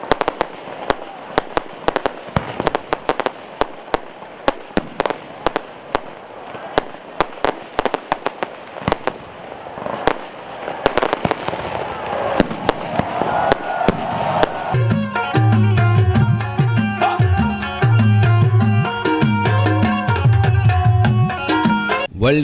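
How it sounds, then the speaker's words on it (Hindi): A fireworks display at the World Culture Festival at the Arts Council of Pakistan in 2024: rapid bursts and crackling pops fill the first half, then loud music takes over with more bangs beneath it. "प्रोग्राम के आखिर में शानदार आतिशबाजी का मुजाहरा भी किया गया।"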